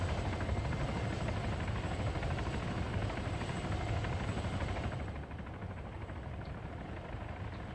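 Steady, loud engine drone of an aircraft in a flight training video game, a dense continuous roar that dips slightly in level about two-thirds through, with no talking.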